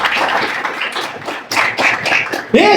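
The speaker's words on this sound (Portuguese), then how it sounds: "Palmas para ele se você conhece a ele." A church congregation claps hands during a Portuguese-language worship service, a dense ragged patter of many hands that swells and fades over a few seconds, with a voice briefly rising at the end.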